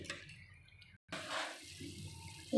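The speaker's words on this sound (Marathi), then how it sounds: "कढी कशी खळखळ एकदम उकळती बघा" A pot of fasting kadhi with potato boils on the stove, giving soft liquid bubbling and gurgling in uneven bursts, fairly quiet and close, with a brief louder splash at the end.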